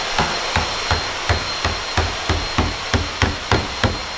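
A hammer strikes a car part about eleven times in a steady, even rhythm. The blows are close and loud, with no talk over them.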